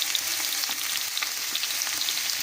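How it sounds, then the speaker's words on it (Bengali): Potatoes and cut brinjal fry in hot oil with a steady, bright crackling sizzle, close and continuous, with light stirring taps and no talk. "এবার এতে কেটে রাখা বেগুনগুলো দিচ্ছি, দিয়ে বেগুনগুলোকেও একটু ভেজে নেব।"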